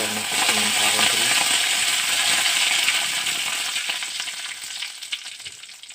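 Mustard seeds and chilli frying in hot oil, a loud close crackling sizzle that fills the scene and gradually eases and thins toward the end.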